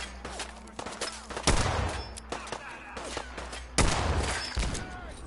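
Gunfire in Fallout 4: several loud, sharp shots ring out close by at uneven intervals, two of them especially heavy, with echoing tails and softer clatter between them.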